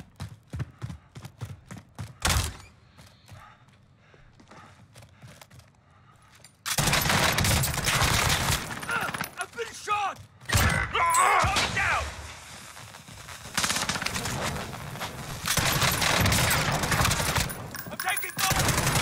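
Rapid automatic gunfire and bursts of shooting from the Call of Duty Warzone video game, loud and dense after a quieter stretch of sparse clicks and footsteps, with short pauses between volleys.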